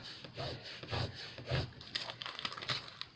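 Vinyl letters being burnished onto a scrapbook album spine, heard as close, quiet rubbing and scraping strokes in an uneven rhythm, with no speech.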